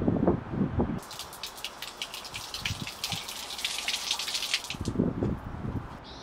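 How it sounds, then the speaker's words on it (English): Water rushes and sputters out of open shower valve supply lines in a steady, splashing gush onto the floor, with brief low voice-like rumbles at the start and near the end. "I'm going to turn on the water, let this blow out"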